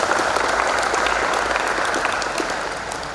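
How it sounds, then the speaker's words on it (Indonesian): A crowd applauds steadily and densely at the opening ceremony of a futsal player selection event in NTT, Indonesia. The wash of claps stays even and full throughout, with no talking. "Tepuk tangan untuk NTT."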